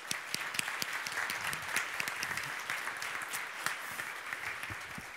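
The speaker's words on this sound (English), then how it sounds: "give her an applause." Scattered audience clapping at an environmental conference on the future of the Baltic Sea, moderately quiet and fairly sparse, with individual claps standing out as a speaker from the environment ministry comes up on stage.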